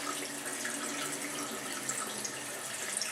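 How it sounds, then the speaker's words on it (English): A test tube alien toy fizzing in lukewarm water, with a steady soft hiss of bubbling that runs continuously and quietly, up close. "Yeah, it's bubbling."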